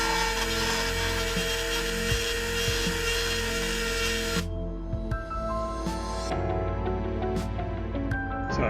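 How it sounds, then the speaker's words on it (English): A small rotary drill bores a hole in the cannon of a Mattel JLA Batmobile toy, a steady close whine that drops abruptly partway through, then continues as a quieter hum with faint scraping. "I'm going to drill out the cannon and glue it in."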